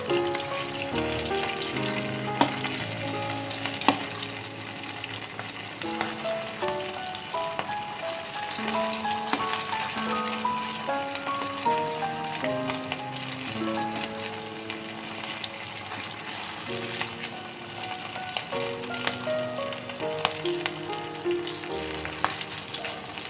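Sabudana pakoras sizzle steadily in hot oil, a continuous soft crackle and hiss heard under background music throughout.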